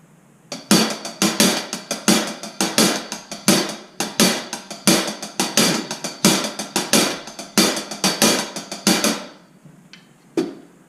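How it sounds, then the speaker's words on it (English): Snare drum paradiddles with the second stroke of each group accented: crisp, rapid, evenly spaced strokes in a steady, lilting pattern, loud and close, played alone, ending with a few scattered hits. "if you accent the right and left stroke, the second stroke of each group, it would sound like this"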